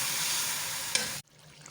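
Masala of tomatoes and spices sizzles loudly in a pan while being stirred, a steady frying hiss with a brief scrape near the end before it cuts off abruptly to near silence.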